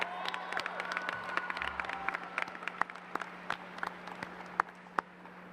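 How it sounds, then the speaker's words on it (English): Applause from a crowd at a high school graduation ceremony, scattered claps from a large audience thinning out over a few seconds, with a steady electrical hum underneath. "give your parents a round of applause for everything they've done to help you out"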